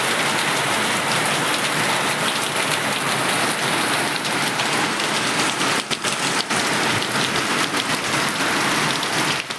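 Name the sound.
rain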